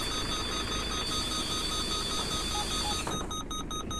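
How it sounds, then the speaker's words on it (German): In the OMSI 2 bus simulator game, a steady electronic beeping repeats over a constant engine and road rumble, with the beeps becoming distinct, evenly spaced pulses near the end. "Was piepst denn da?"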